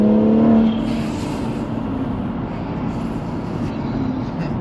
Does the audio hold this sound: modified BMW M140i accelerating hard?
yes